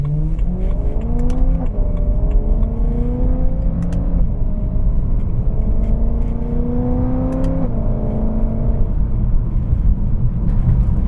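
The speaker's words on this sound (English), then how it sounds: "This engine is just so sweet" BMW M3 engine revving hard while driving with traction control off, its loud, continuous pitch climbing steadily through the rev range and dropping back at each gear change, three or four times in a row.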